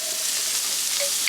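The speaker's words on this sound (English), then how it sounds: "we're going to let those saute a little bit before we add the pork" Leftover onions sizzle in a pan over low heat, a steady bright frying hiss held close and even throughout, with a faint stirring scrape near the end and no talking.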